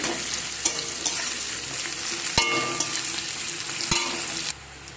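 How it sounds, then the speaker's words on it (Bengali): Chopped onions frying in a pan for a chicken curry, a steady close sizzle with a few sharp scraping stirs of a utensil against the pan, no talking. "আমি পেঁয়াজ ভাজা করে নিচ্ছি"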